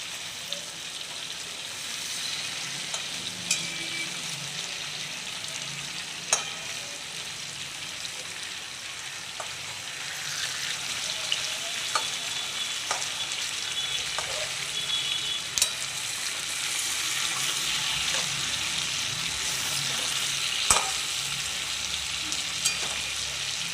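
Salted, turmeric-coated hilsa fish sizzles steadily in hot oil after being flipped, a continuous close crackling hiss with scattered pops and occasional utensil clicks, no voices.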